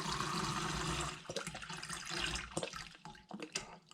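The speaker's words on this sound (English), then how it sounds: "I am going to fill up my pot with 500 milliliters of water." About 500 milliliters of water poured into a cooking pot while preparing a backpacking meal on the trail. It is a steady, close gush for about a second, then settles into lighter splashing and trickling.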